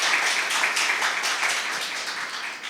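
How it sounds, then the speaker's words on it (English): A crowd of competition audience members applauding steadily, a dense, fairly loud patter of many hands clapping with no pauses. "I'd like to give you a round of applause"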